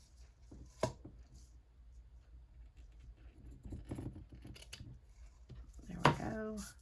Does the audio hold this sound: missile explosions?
no